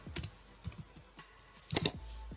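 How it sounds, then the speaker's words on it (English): Someone types on a computer keyboard into a web browser. A few scattered close key clicks come first, then a quicker cluster of louder presses near the end. "just type FeedFinder"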